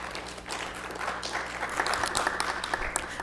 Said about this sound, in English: give them a round of applause for the hard work